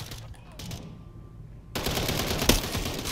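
Rapid automatic gunfire in Call of Duty, a few quick shots early then a dense, loud burst of continuous fire through the second half.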